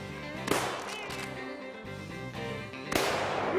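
Two loud gunshots ring out about two seconds apart during a squirrel hunt in the Caney Creek WMA woods of Neshoba County, Mississippi, each a sharp blast over a steady tonal background.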